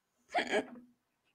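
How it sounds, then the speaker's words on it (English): A woman gives a single short hiccup, close and quiet, alone in near silence. "You got hiccups."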